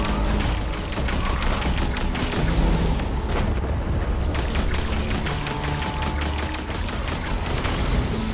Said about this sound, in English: Automatic machine gun